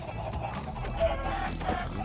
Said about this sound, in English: Bro, we need my chicken.